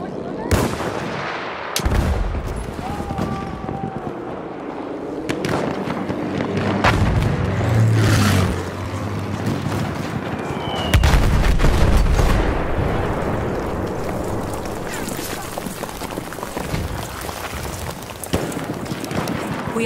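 Bomb explosions and gunfire in the video game Battlefield 1, with heavy booming blasts, rattling shots and rumbling impacts throughout, loud and dense, with faint voice chatter at moments.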